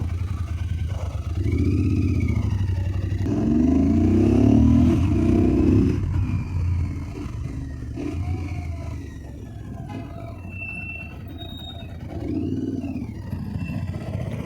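A Royal Enfield Interceptor 650 twin motorcycle running nearby, its low exhaust rumble rising in a few rev swells before settling to a quieter idle, with no talk over it.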